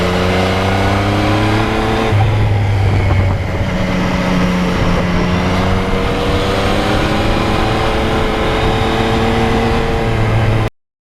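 A 2020 Yamaha MT-09 naked motorcycle being ridden outdoors on a windy day, its engine droning loudly and steadily with shifting pitch throughout, close to the microphone with wind rush mixed in.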